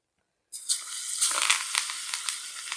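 A ground paste drops into hot oil and erupts into a loud, bright sizzle after a moment of silence, crackling steadily with small popping bursts as it keeps frying.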